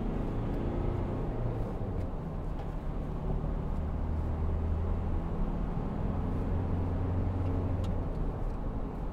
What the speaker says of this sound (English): Give it some gas, see what it's like.